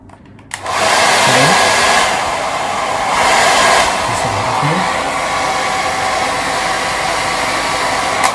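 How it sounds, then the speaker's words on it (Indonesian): Hair dryer on low speed drying hairspray on a man's pompadour hairstyle, switching on with a click and then blowing loud and steady for several seconds with slight shifts in airflow, no talking. "ini kita sekarang keringin lagi final si hairspray-nya pakai hair dryer dengan speed yang rendah"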